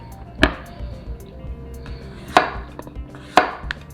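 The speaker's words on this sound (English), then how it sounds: "Also the zucchini, cut the tip." A knife cuts the tip off a zucchini on a cutting board, giving three sharp, separate chopping knocks spaced about a second apart in an otherwise quiet kitchen.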